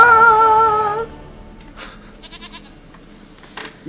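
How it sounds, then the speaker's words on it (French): A goat in The Witcher 3 gives a loud, wavering bleat for about a second, then the game scene continues with quiet ambient sounds and a few soft clicks and footsteps. "Une chèvre à moi."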